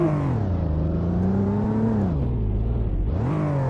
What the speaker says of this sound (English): Revving it.